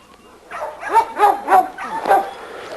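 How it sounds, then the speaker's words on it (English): A dog gives a quick series of four or five short, yelping barks and whimpers at close range, evenly spaced over a couple of seconds in an otherwise quiet setting. "This is our little champion Rocco dog."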